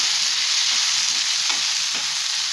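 Okra curry with turmeric, tomato and onion stirred in a pan, a steady loud sizzle with a few soft scraping strokes of the spoon coming through, no voices.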